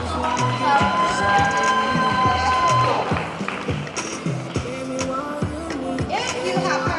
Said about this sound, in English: So give the student a round of applause.